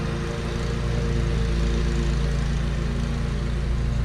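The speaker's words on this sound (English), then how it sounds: "lawnmower is noisy as heck" A running lawn mower drones continuously nearby, a loud steady engine hum with a constant low rumble and no pauses, heard alone without speech.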